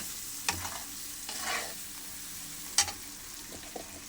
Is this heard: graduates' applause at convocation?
no